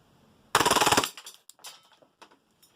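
An Action Army AAP-01 gas airsoft pistol fires a rapid full-auto burst of about a dozen snapping shots in half a second, followed by scattered faint clicks and rattles.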